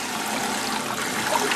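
Water running and splashing steadily over rice as it is rinsed in a pot, a continuous broadband wash of trickling liquid heard close and alone.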